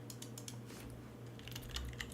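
Rapid clicking of computer keyboard keys, typed in quick irregular bursts, faint and close over a steady low electrical hum.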